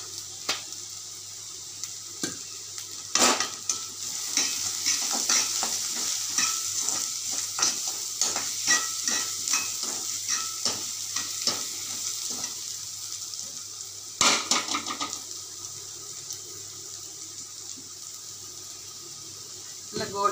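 Chicken pieces with a little turmeric frying in a pan for groundnut chicken, a steady close sizzle with intermittent stirring and scraping clatters throughout.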